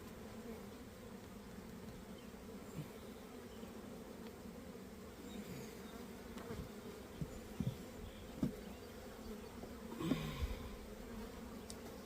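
Honey bees hum in a dense, continuous drone at an open hive during a spring inspection, close and steady, with occasional faint knocks and handling sounds.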